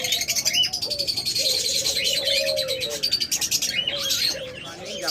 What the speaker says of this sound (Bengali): চমৎকার ডায়মন্ড ঘুঘুগুলা একদম ডিম পাড়া পাত্রে বসে আছে